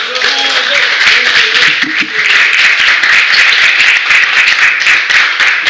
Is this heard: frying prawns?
no